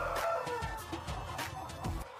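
A dense flock of hybrid laying hens in a large industrial poultry farm in Côte d'Ivoire keeps up a steady, close chorus of overlapping clucks and cackles, with no talking.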